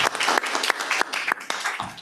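A seated audience at a spine surgery conference gives brief, moderately quiet applause, made of rapid overlapping claps that fade out after a couple of seconds.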